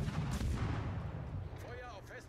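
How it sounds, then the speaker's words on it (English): Distant naval gunfire from an enemy ship firing HE shells in World of Warships, a booming rumble that fades into a low roar, with a voice talking over it. "He shoots HE at me."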